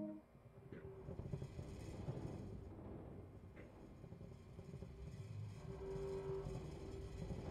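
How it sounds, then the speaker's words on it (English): A Class 43 HST diesel locomotive in the Train Sim World game starts its engine, building into a low, steady rumble that carries on faintly throughout with no talk. "When you're ready, hit the engine start button on the desk there."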